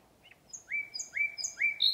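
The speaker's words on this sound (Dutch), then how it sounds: "Ik ben er helemaal van onder de indruk dat ze zo luid zijn, juist 's nachts." Loud birds singing at night, several rising clear chirps and whistled phrases repeating close by over a low hiss, with no talking.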